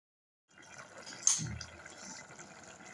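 Water is poured into a pan of ridge gourd curry, giving a brief, fairly quiet gushing splash that settles into a low simmering wash, close up with no talk.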